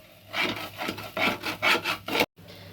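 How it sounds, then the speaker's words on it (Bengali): Rice and lentils being stirred in a pot while khichuri cooks: repeated scraping, rasping strokes of a spoon against the pot in an uneven rhythm, close and clear, ending with a brief pause. "এদিকে চালটাও আমি নেড়ে নেড়ে দিচ্ছি, যাতে ধরা লেগে না যায়।"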